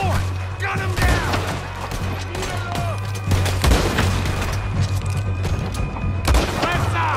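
Gunfire in the video game Red Dead Redemption, with repeated shots and booming blasts popping throughout a fort battle as voices shout over the steady barrage.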